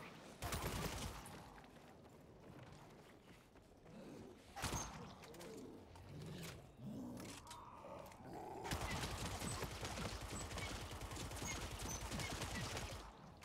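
Dying Light 2 gunfire crackles in rapid bursts and sustained automatic volleys, loud and continuous, with quieter stretches of game sound between them.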